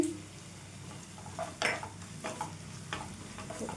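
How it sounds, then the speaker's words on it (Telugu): Curry leaves sizzle in a pan with potato and cauliflower as a metal spoon stirs and scrapes, sharp clinks standing out over a soft, steady frying hiss, close and fairly quiet. "కొద్దిగా కరివేపాకుని వేసేసుకొని ఇదంతా కూడా ఒకసారి కలిపేసుకోవాలి"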